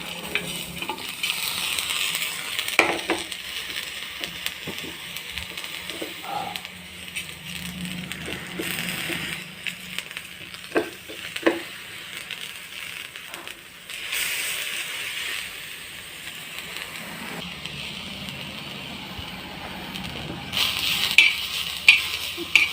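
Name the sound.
dry spices being roasted in a pan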